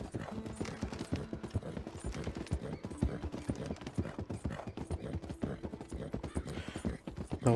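Horse hooves clip-clopping at a brisk, steady rhythm in the video game Red Dead Redemption 2, close and continuous with faint mechanical clatter around them.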